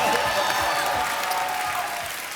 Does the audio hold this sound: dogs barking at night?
no